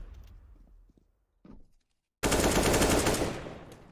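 Gunfire in Counter-Strike: Global Offensive starts with a couple of faint shots and clicks, then a loud, dense burst of rapid automatic fire that keeps going to the end.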